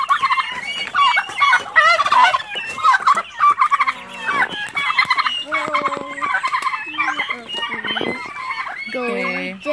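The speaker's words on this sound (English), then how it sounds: "The turkeys don't want to share their food with the chicken." Turkeys gobble and a chicken clucks at feeding time, a busy, close, loud jumble of overlapping calls that continues without pause.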